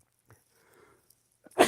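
A single loud, abrupt sneeze bursts out at the very end after near silence, close to the microphone.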